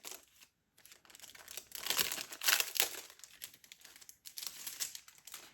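Foil sheets for die-cutting in a paper-crafting kit crinkle and rustle as their packaging is opened, in close, continuous handling with louder bursts midway and no talking.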